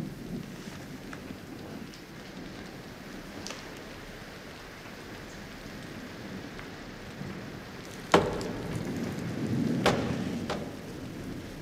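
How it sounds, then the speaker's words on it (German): Steady rain on surfaces through a stormy night with winds up to 80 km/h, a sharp thunder crack near the end followed by rolling rumble, loud and without talk. "Sturm und Regen."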